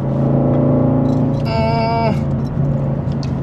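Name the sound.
Subaru WRX Gen 3 modified car engine sound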